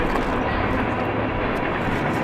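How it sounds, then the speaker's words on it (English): A train passes close by near a riverside house, giving a steady, loud broadband rumble that holds evenly throughout with no voices. "Train!"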